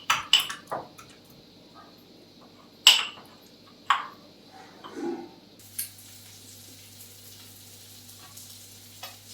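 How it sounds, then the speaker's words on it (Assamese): Fish frying in a pan, a steady soft sizzle running under sharp clinks of utensils and pans, with a low constant hum joining partway through. "লগতে মাছো ভাজি আছোঁ"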